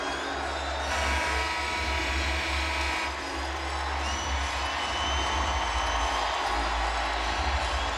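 Crowd noise in a basketball arena before tip-off of a men's championship game between Iowa State and Kansas: a dense, steady roar of many voices that swells slightly in places, heard at a distance.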